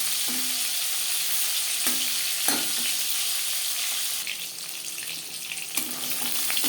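Fish pieces frying in oil in a pan for a Bengali-style fish curry, a steady close sizzle with a few brief stirring clatters, no talking.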